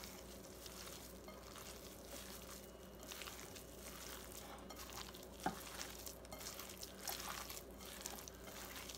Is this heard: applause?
no